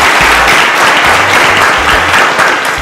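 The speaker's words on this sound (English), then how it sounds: "A round of applause for Emmanuel." Loud, close applause from a studio audience for a contestant named Emmanuel, a continuous wash of clapping with a low rhythmic beat of background music beneath it.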